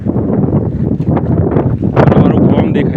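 Strong wind blows outdoors in a village, rumbling and buffeting the microphone in loud, uneven gusts while a person talks over it.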